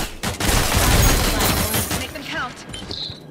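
Bursts of gunfire from an online match in the Rogue Company video game on PS5, loud and close, several cracks in quick succession that thin out, with speech in the background.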